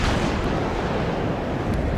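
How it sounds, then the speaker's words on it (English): Heavy artillery fire pounding a BMD armored vehicle in the WARNO war strategy game, a loud, dense rumbling barrage filling the whole moment without pause. "Artillery fires at this BMD"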